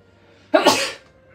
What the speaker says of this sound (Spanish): Ella me reta cuando yo estornudo.